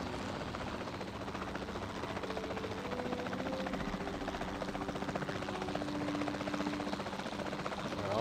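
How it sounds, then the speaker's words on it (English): A steady helicopter rotor drone with an engine hum in the video game Jurassic World Evolution 2, constant and moderately loud, no voices. "so let's take a helicopter"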